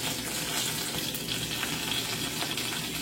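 Curry leaves and chopped rampe leaves sizzle in hot oil for a Jaffna squid curry, giving a dense, continuous crackling hiss throughout, close and steady with no talking.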